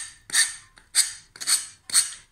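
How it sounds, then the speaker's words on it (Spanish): Sandpaper is drawn outward along the edge of a paper napkin to cut it, giving four short rasping strokes in a steady rhythm, close and crisp. "ahora vamos con una lija, de esta forma, de dentro hacia afuera, vamos a ir cortando así"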